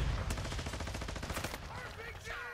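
Rapid automatic gunfire in a first-person shooter game, a fast rhythmic burst of sharp repeated shots up close, followed by bright metallic clinks as the firing stops, with faint voices underneath.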